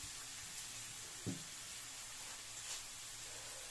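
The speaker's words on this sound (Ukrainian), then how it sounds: "жарилася цибулька з чесничком" Onions and garlic fry quietly in a pan, a soft steady sizzle with a couple of faint knocks, no voices.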